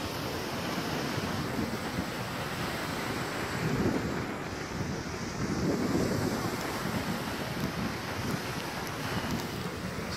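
Waves wash ashore in slow surges while gusty wind buffets the microphone, a continuous loud roar with swells rising and falling.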